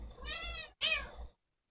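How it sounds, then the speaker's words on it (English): Two close meows from a cat, each with a rising-falling harmonic whine, the second louder and sharper after a brief gap, alone with no talk. "And shut up, cats."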